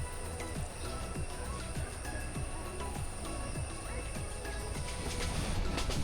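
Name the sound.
passenger train running from Dhaka to Jamalpur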